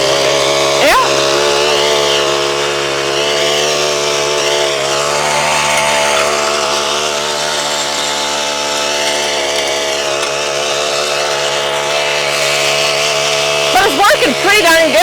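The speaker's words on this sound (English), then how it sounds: "And it actually has a little Honda engine on it." The small Honda engine of a walk-behind mower runs with a loud, steady, buzzing drone at close range throughout, with a brief rougher flutter near the start and end.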